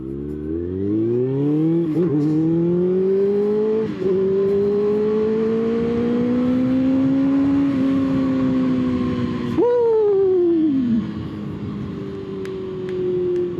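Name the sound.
Kawasaki ZX-6R sport motorcycle engine accelerating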